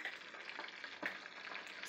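Fatback cooking in a pan on a stovetop burner set between medium and medium-high, a soft continuous sizzle and crackle, close but quiet, with no talking.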